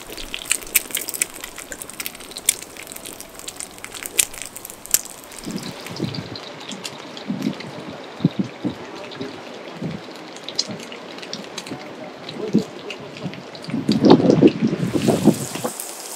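Water of a mountain stream in Pinglin rushes and gurgles continuously beside a creekside campsite, a close, uneven wash with scattered splashes that swells near the end.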